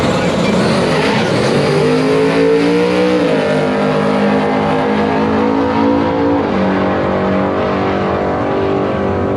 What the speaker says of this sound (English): That car in the naturally aspirated big block class.